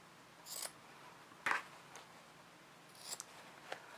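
Scissors snip the little corners of fabric on a double-pocket bag, three or four sharp, close cuts spaced out over quiet background with no talking.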